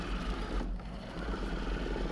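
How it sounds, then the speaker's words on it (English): A Miele RX1 Scout robot vacuum driving forward with its vacuum motor and side brushes running, a steady close whirring hum with a faint rhythmic mechanical flutter, heard alone. "when it goes forward, it will actually turn the vacuum motor and the side brushes on as well"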